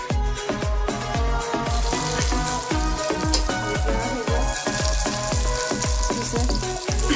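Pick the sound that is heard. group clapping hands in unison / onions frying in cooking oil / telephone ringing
onions frying in cooking oil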